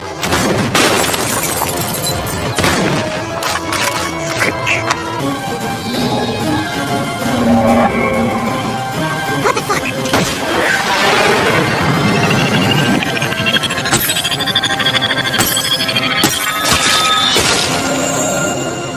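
A large pane of glass shatters during a tense action scene in an Indonesian-narrated sniper revenge film: a loud, dense crash of breaking glass that spreads into a long wash of scattering debris and clutter, with no speech.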